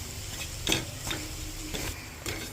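Cabbage poriyal is stirred in a pan with the heat switched off, making several distinct scraping strokes of a spoon against the pan at an uneven rhythm over a faint background hiss.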